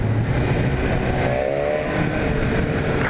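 A 2018 BMW S1000R motorcycle engine revving, a steady, fairly close mechanical roar with a brief rising whine partway through, no talking over it.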